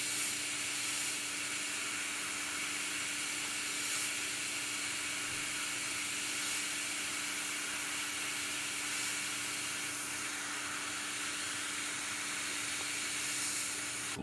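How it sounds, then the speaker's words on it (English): An airbrush sprays paint for pre-shading, held almost parallel to the surface, producing an even, continuous airy hiss close by with no talking. "You can see the airbrush is almost parallel to the surface."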